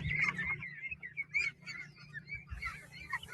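Ducks in a karst landscape near a cave temple give a run of close, honking quacks in irregular bursts, some overlapping, with no one talking.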